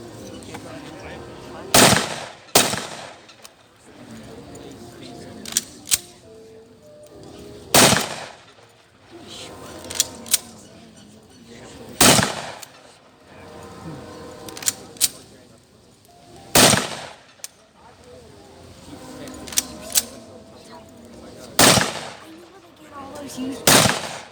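M1 Garand rifles firing at a WWII reenactment weapons demonstration, with about ten loud sharp shots spaced a few seconds apart, each followed by a short echo, and some distant crowd noise between them.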